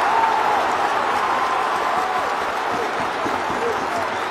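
Broad roar of a stadium crowd applauding a score during a hurling match, sustained and fairly loud with a faint whistle-like tone near the start.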